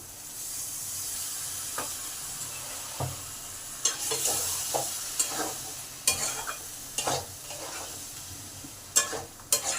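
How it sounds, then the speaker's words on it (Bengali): Beaten yogurt going into a simmering potato and pointed gourd curry, a steady close sizzle with repeated spoon scrapes and stirring knocks growing busier toward the end, no voices. "এই দইটাকে ভালো করে ফেটে তরকারিতে দিলাম"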